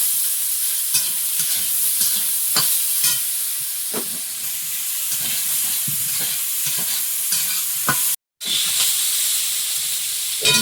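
Ingredients frying with a little sugar in a pan give a steady hiss and sizzle, with irregular stirring scrapes and clicks throughout and a brief dropout near the end.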